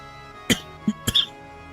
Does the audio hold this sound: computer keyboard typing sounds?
no